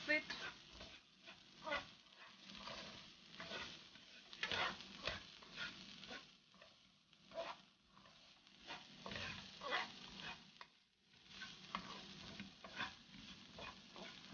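Vegetable puff filling being stirred with masala in a pan, a steady run of soft scraping and stirring strokes with light sizzling, close and fairly quiet, with no talk.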